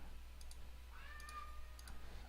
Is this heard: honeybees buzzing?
no